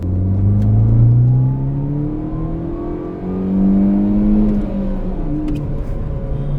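A Mini Cooper S R56 revs up through the gears, its exhaust droning with rising and falling pitch, steady and fairly loud from inside the moving car, with no talk over it.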